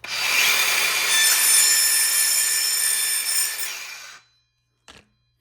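A saw with a waxed blade cuts wood while building a boat, making one loud, steady rasping run through both sides that fades and stops, then one short knock follows after a brief silence.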